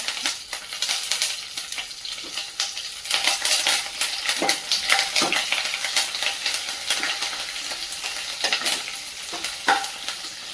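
Garlic, green chilies and curry leaves fry in hot oil in a pan while tur dal is being made. The steady loud sizzle is broken by the occasional scrape and clink of a stirring spoon.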